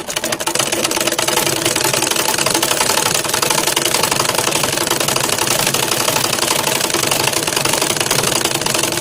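A sewing machine runs continuously while stitching together the pieces of a silk skirt, producing a loud, steady, fast mechanical rattle up close that holds unbroken for about nine seconds.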